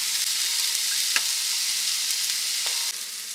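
Oil sizzles and crackles loudly in a frying pan, a steady close hiss with a few brief pops and one small clatter near the end, and no talk.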